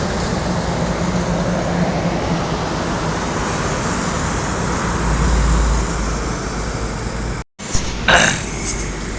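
A Sylvia Trans bus passing on a road: a continuous low engine and tyre rumble with traffic noise that swells slightly, then a brief drop-out followed by a short, sharper burst of noise.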